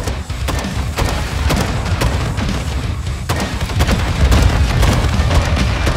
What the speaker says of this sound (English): I present to you the grenade launcher.